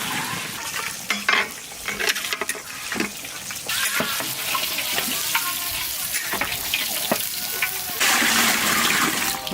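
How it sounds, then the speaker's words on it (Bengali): Water poured into a pan of sizzling, well-browned spiced meat gives a loud, continuous hissing crackle with stirring clatters and bursts, close and steady for several seconds. "চলো আমার দাদা মাংস কষিয়েছে সুন্দর একদম, যা সেন্ট উঠছে। সেই সাথে আমি ঢেলে দেবো জল।"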